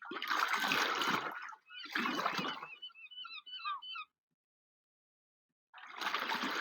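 Rafts paddled through water in a race, heard as three loud bursts of splashing and churning water, with squeaky chirps between the first two and a clear silent gap before the last.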